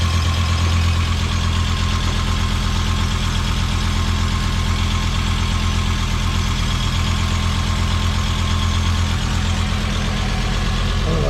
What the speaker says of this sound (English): Exhaust leak right there.